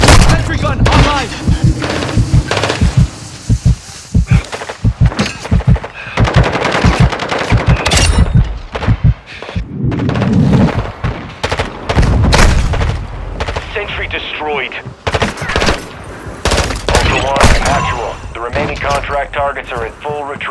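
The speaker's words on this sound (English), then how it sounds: "Sentry gun online." Rapid automatic fire from a sentry gun in Call of Duty MW2 DMZ, loud bursts and booms pounding throughout amid battle noise, with radio voices talking over parts of it.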